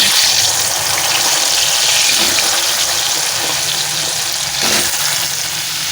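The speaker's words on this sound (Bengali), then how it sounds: "ভেজে নিচ্ছি লাল লাল করে কচু আলুগুলো" Taro and potato pieces frying in oil with turmeric and salt, a loud continuous close sizzle with faint scraping, no voices.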